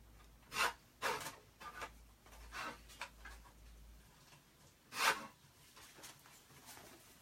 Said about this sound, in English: I'm going to cut this real quick.